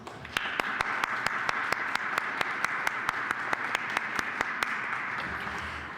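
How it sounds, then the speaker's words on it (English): A closing-ceremony audience at an awards event in 2014 gives a steady, sustained round of applause, dense clapping filling the space evenly from start to finish, with a few sharper claps standing out. "So let's give them all a round of applause."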